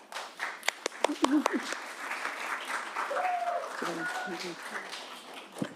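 At a school board meeting, a small scattering of claps, with a few sharp individual hand claps up close, is followed by a quieter stretch of murmured voices and room chatter.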